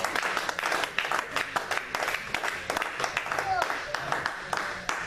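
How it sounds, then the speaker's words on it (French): A church congregation at a French-language sermon applauds the word of God, with sustained, lively clapping and scattered cries from the crowd while a voice speaks over it. "Est-ce qu'on peut acclamer la parole de Dieu?"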